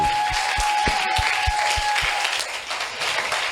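A church congregation breaks into warm, sustained applause for the Lord, many hands clapping at once in a roomy space, with a few steady beats standing out over the crowd.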